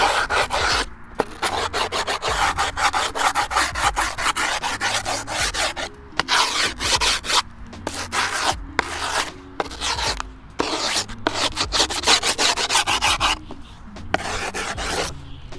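A file rasps along the edges of grip tape on a new skateboard deck in long, steady back-and-forth strokes, loud and close, with brief gaps between passes and no talking.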